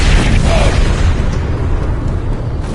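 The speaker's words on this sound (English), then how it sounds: "Mortar fire!" Mortar explosions in Star Trek Online, booming loud and close with continuous rumbling blasts filling the scene, no clear gaps between them.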